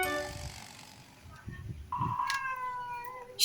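Cats fight, trading a few drawn-out yowls and low growls, moderately close and fairly quiet, with a sharp hiss or scuffle near the end.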